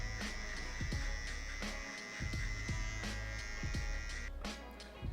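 Electric hair trimmer buzzing steadily along the hairline during a drop skin fade haircut, a continuous close-up whine with brief pauses and soft clicks as the blade moves.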